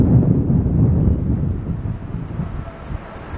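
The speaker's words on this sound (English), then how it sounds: "so you're going to be hearing a lot of wind noise" Wind buffeting an outdoor microphone on a walk around Stanley Park at dusk: continuous low, rumbling gusts that swell and fade, loud and close, with no talk.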